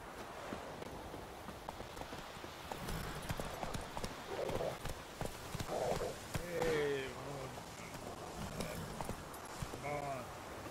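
Hooves of Roach, the horse in Witcher 3, clip-clopping at a steady trot on a hard surface, fairly faint, with short voice-like sounds breaking in partway.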